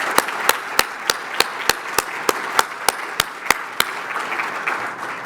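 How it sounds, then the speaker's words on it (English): An audience applauds military veterans who have stood up, a soft wash of steady clapping with a sharp, regular clap close by cutting through about every third of a second. "Let's give them a round of applause."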